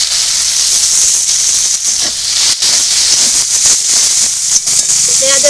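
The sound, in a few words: chopped onion frying and sizzling in hot oil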